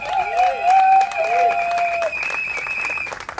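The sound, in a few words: wedding guests applauding and cheering the couple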